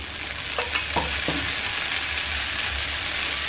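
Healthy tiffin batter pressed flat in a pan sizzles steadily in a little oil, a close, continuous hiss with a few soft scraping touches early on.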